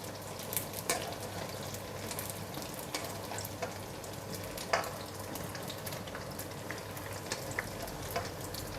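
Rice vermicelli fries in hot oil, a steady soft sizzle and crackle with faint scattered pops, continuous and fairly quiet throughout, with no talking.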